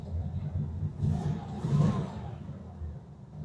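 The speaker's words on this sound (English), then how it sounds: "we're getting ready to go for a ride in a 63 Vette" A 1963 Corvette convertible, a custom restomod, idles with a steady low rumble that swells twice in brief revs before settling back, close by and alone with no talk.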